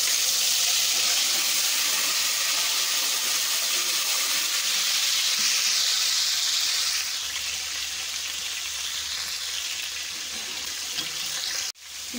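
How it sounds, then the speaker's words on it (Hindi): Garlic paste sizzling in hot oil in a pan while pumpkin curry is cooked, a loud, steady, close hiss that eases slightly toward the end and stops with a brief clunk. "तो इसमें हम लहसुन का पेस्ट डाल देंगे।"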